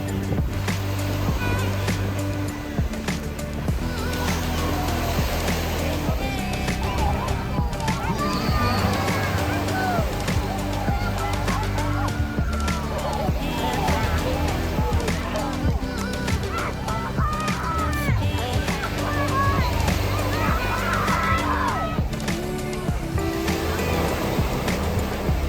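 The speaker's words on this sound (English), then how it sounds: "Water's a little choppy." Choppy water slaps and washes around boats lining up for a race start, a continuous close wash under steady wind and engine rumble, with scattered honking calls and voices talking.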